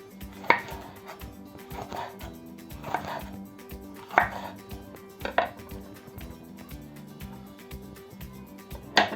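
A knife chops green bell pepper on a cutting board in a kitchen, giving crisp, close, rhythmic cuts in short bursts with brief pauses between them, and no talking over it.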